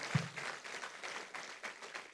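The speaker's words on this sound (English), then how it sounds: "big clap for her" Faint, short burst of audience applause at a regional workshop on tele-law programs in Chennai, scattered claps rising and fading over a couple of seconds.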